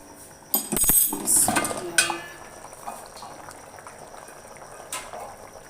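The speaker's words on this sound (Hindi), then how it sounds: "अब इसे मज़ीद हमने ढक्कन देकर 5 मिनट पकाना है।" A covered pot of green chickpea curry (choliya salan) simmers. A lid clatters and clinks near the start, then soft, continuous bubbling goes on, with a few faint pops.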